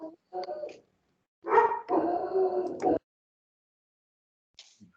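A dog barking during an online meeting, a few short barks followed by a longer sustained howl-like bark, close and clear against silence, then a faint last yip.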